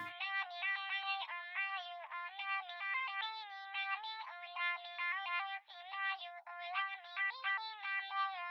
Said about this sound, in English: So if we take a closer look at the vocal chop just by itself